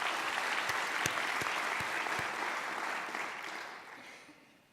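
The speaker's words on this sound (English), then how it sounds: "Please, a round of applause." A conference audience at a dementia event in a large convention centre applauds in a dense, sustained wash of clapping that gradually fades away.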